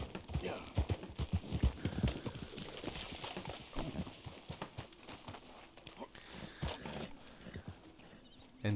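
Horse hooves clip-clop at a walking pace in the video game Red Dead Redemption 2, a steady run of close, uneven hoof beats with faint background ambience and no talk.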